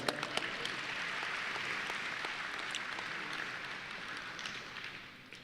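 An audience at a Texas Department of Transportation safety banquet claps together in a sustained round of applause, dense and even, tapering off slightly toward the end.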